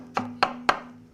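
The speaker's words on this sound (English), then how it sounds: "The mango flesh gets chopped into bits." A knife chops mango flesh on a cutting board in three crisp, evenly spaced strikes, close and clear, each ringing briefly before the next.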